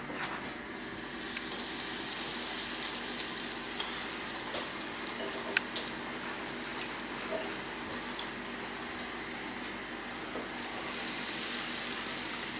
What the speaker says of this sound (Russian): Итак, наше масло разогрелось, теперь выкладываем наши шарики.